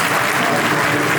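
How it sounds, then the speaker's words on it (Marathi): Loud, dense applause from an audience at a devotional bhajan gathering fills the space evenly and without a break. The clapping is close and sustained, and no voices can be picked out. "त्यांच्यासाठी जोरदार टाळ्या"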